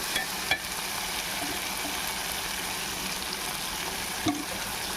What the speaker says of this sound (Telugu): పచ్చివాసన దాకా మళ్ళీ కొంచెం ఫ్రై చేసుకుందాం